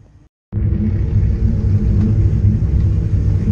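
A BMW E30 325i race car engine at the Hockenheim circuit, a loud, steady low rumble that starts abruptly after a moment of near silence and holds constant.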